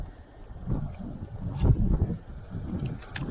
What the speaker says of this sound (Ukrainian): Бачите, такий вітер. Ух, поривчистий.